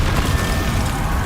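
A Bombarda blasting spell from Hogwarts Legacy bursts as a loud, dense boom lasting about a second, with heavy low-end rumble throughout and no talking.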